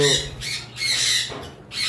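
A breeding pair of sun conure parrots lets out shrill, piercing squawks close by, about four harsh bursts in quick succession with brief gaps between.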